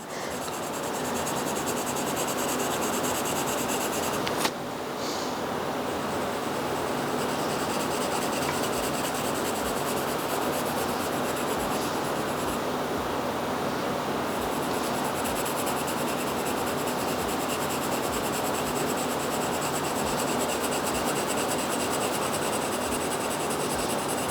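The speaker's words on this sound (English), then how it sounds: "I am coloring as soft as I can" Steady, soft scratchy rubbing of colored pencil on paper, continuous and close, with a brief louder tap near the start.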